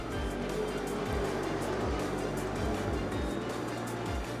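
Hobby stock race cars at Black Hills Speedway on opening night, a steady loud roar of engines with several cars sweeping past close by in quick succession, no talk in the clip.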